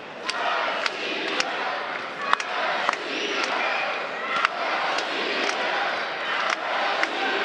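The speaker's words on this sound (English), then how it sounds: "Crowd is chanting in support of the Russian." A crowd at a wrestling world cup tournament chants loudly in support of a Russian wrestler, a dense roar of voices punctuated by sharp slaps and thuds from the mat, with a commentator speaking over it.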